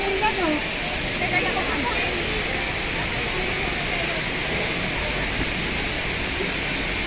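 Hinulugang Taktak waterfall in Antipolo City, Rizal, roars with a steady, loud, unbroken rush of water while people talk over it.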